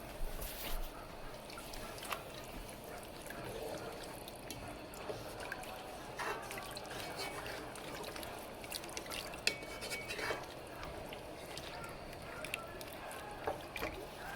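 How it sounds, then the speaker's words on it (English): Beef broth poured over braised lamb shanks in a pot is stirred, making a faint, steady wet sloshing and squishing with occasional soft clicks and drips, quiet and continuous throughout. "You want to do that, and you want to stir."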